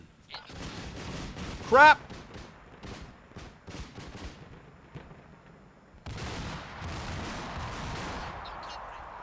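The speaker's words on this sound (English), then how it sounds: "They're shooting at us!" Gunfire crackles in the Arma 2 video game: scattered sharp shots and bursts, some near and some distant, with a brief loud cry and a rising roar of battle noise in the second half.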